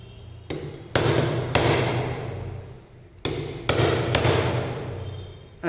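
A firmer chisel is struck repeatedly to nick wood, giving six sharp, close, loud blows in two groups of three with short ringing decays and no voices.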